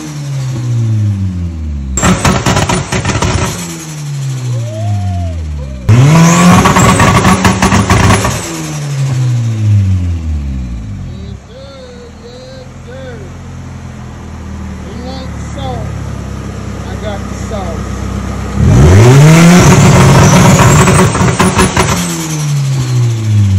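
Turbocharged car engine with a cheap eBay T3/T4 turbo kit and stainless steel manifold revving hard on a dyno, three loud sweeping pulls rising and falling in pitch, separated by quieter idling with faint chatter.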